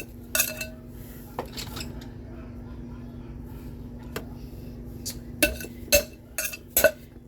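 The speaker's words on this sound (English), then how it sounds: "I'm just going to take my spatula and go around." A metal spatula scrapes around the sides of a frosted cake during decorating, giving scattered clinks and scraping strokes against a steady low hum, louder near the end.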